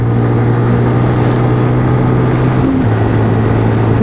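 A Keeway RKS motorcycle with a five-speed gearbox and 2,000 miles on it accelerates on the road, its engine a steady, loud drone mixed with wind, with a brief pitch shift partway through.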